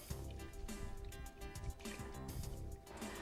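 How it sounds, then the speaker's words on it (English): Muriatic acid pours into a bucket of water outdoors in a breeze, a continuous faint splashing trickle under steady wind noise throughout. "when you're pouring the acid into the water, it is muriatic acid"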